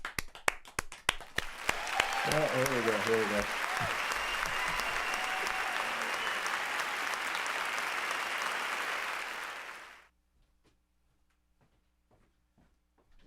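An audience breaks into applause after a few sharp opening claps, building into a sustained, even roar of clapping for about eight seconds before cutting off abruptly into near silence, with brief talk at the start.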